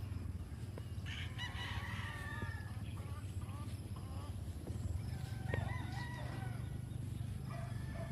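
Chickens and roosters at feeding time on a large breeding farm: a low steady hum carries scattered clucks, squawks and crowing from many birds at mid-distance.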